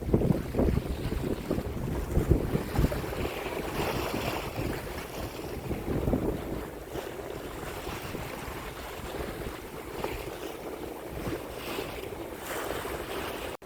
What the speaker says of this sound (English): All I can hear is just the waves, the sound of sea, and a bit of wind.